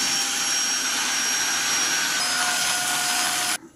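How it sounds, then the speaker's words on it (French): A Tineco Floor One S3 cordless wet-dry floor vacuum runs with a loud, steady high-pitched whine and rushing airflow, then cuts off abruptly near the end. "présentation de l'aspirateur laveur de sol sans fil de la société Tinco, le Floor One S3"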